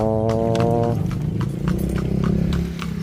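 A carriage horse at Wat Phra That Lampang clip-clops along on shod hooves, a steady run of sharp, close hoofbeats over a low rolling rumble, with a brief low horn-like tone at the start.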